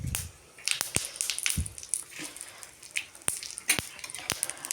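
Garlic frying in oil in a pan for red chilli chutney, giving a soft, steady sizzle with sharp clicks and crackles scattered through it, close up and with nobody talking.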